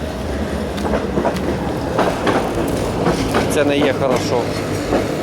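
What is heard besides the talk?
tram passing by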